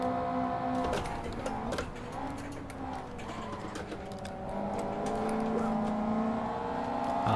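Race car engines in the Assetto Corsa racing game, Toyota Sprint AE86 and BMW Z at Cadwell Park and the Nordschleife, whining loudly with rising and falling pitch and a brief dip at an upshift, sustained throughout.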